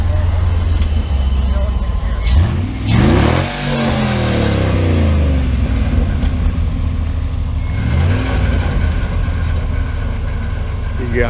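A 1965 Chevrolet C10 pickup with an LS V8 revving for a burnout while its rear end fails: a deep, loud rumble that surges and drops in two sharp revs, then settles back to a heavy idle.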